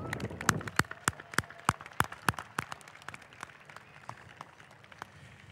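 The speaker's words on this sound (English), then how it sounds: "Can we have another round of applause for the new Australians here in" Scattered, spaced hand claps at a citizenship ceremony in an arena, distinct individual claps in an irregular rhythm that grow fainter toward the end.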